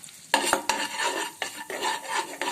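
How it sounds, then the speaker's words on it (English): A spoon scrapes and stirs through a spice mix of amchur, garam masala and black pepper for an aloo frankie filling, close rhythmic scraping strokes over a steady sizzle in a pan. "And then we will be giving it a mix."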